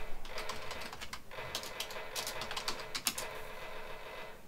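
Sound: office workers typing on keyboards in Space Quest III video game

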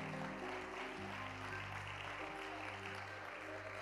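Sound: church congregation clapping in praise

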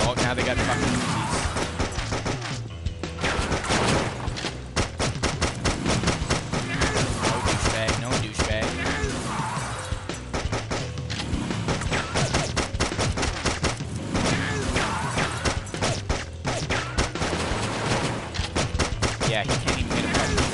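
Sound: gunfire in the Delivery Man flash video game

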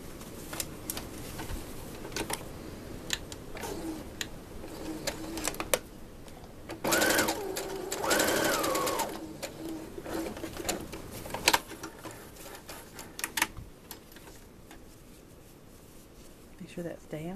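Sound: sewing machine stitching gown fabric

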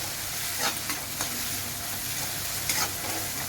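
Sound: tomatoes sautéing in pan

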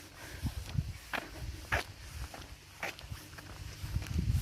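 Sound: footsteps walking outdoors

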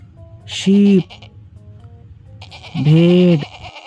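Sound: sheep bleating

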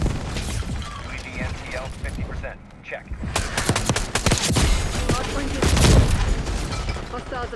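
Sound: gunfire in the video game Call of Duty Black Ops 6

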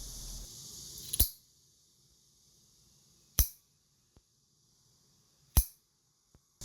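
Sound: scissors cutting chicken feet claws

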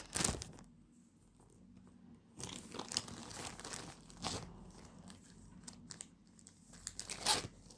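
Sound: opening a package while unboxing an order

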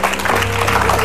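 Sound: studio audience applause

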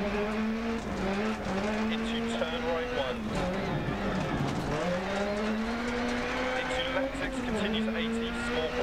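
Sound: Hyundai WRC rally car driving in Dirt Rally video game

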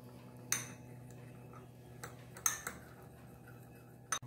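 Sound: mashing mango for shrikhand in a bowl

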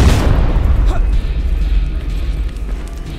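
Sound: grenade explosion in video game Terminator Resistance

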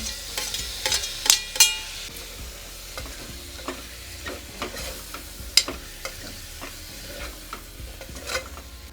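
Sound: prawns and tomatoes frying and being stirred in pan

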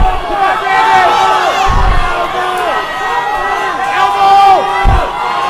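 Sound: crowd cheering at a fight

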